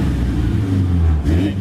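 A Suzuki 4x4 engine revs up in a steady, close rumbling drone that rises slightly in pitch, with a voice faintly present over it.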